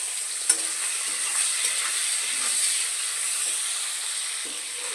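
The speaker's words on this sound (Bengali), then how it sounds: "চিংড়ি মাছটাকেও ভাজা করে নেব।" Prawns frying in hot oil give a steady, close sizzling hiss that runs unbroken throughout, with a faint clink near the start and no talking.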